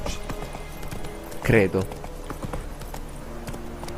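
In The Witcher 3: Wild Hunt, a horse's hooves clip-clop in a quick rhythm over a background game soundscape, with a brief burst of speech partway through.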